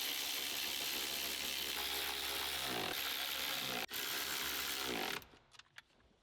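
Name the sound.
screwing a plate back onto an Audi chassis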